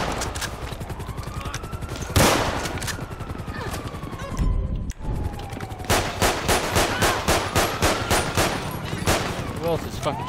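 Repeated gunfire in GTA 5 during a police shootout, bursts of rapid shots and single cracks, loud and close, with some talk mixed in.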